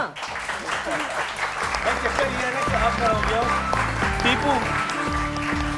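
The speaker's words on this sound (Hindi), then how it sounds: "तालियां।" A studio audience claps on a morning TV talk show, bursts of applause under a loud, busy layer of music and voices with steady rhythmic patterns throughout.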